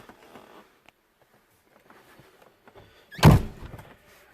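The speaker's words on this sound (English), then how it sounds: "Shut the door." A Ferrari 360's door shuts with a single solid thunk about three seconds in, loud and close after a quiet stretch of faint shuffling.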